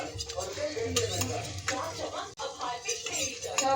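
Chillies dropped into a tiny pan on a miniature toy kitchen set, with light scraping and stirring clinks over a soft sizzle, near and fairly busy, a voice talking faintly underneath.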